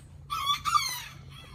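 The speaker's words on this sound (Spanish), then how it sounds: "El gallo marucana" A Marans rooster gives a single short, hoarse crow, close by but fairly quiet, with a faint low hum behind it.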